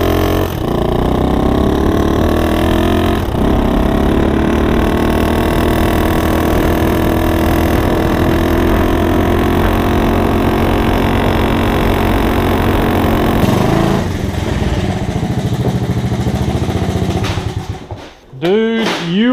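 A Honda Trail 70 minibike engine with performance mods running loud and steady throughout a ride, a continuous buzzing drone that drops away near the end.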